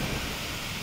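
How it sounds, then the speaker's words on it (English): Thunder during a heavy hailstorm and downpour in Fresno, a loud, dense rumble over the constant roar of rain and hail, brief and sustained without a sharp crack. "That was thunder hitting a tree."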